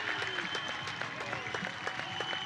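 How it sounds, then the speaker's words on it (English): Baseball crowd at an Australian Baseball League game between Auckland Tuatara and Brisbane Bandits applauding and cheering a triple by the local hero, a steady dense wash of clapping with a few voices rising through it. "the crowd is absolutely loving it"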